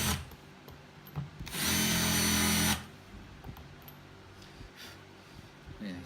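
A drill fitted with a countersink bit spins up for about a second, countersinking a screw hole in wood for a table saw crosscut sled, loud and close amid quiet room tone.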